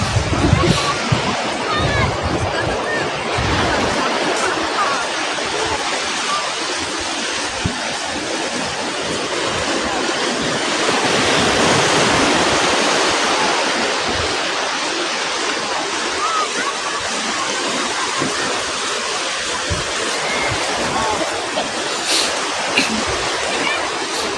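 Broad, steady rush of shallow seawater washing over the shore at low tide on a beach in Batangas, Philippines, continuous and fairly loud, with occasional faint voices in the background.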